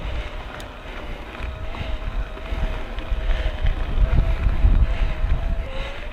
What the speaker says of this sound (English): You can probably hear the whir of the E8000 Shimano motor. I can barely hear it over the wind noise in my helmet.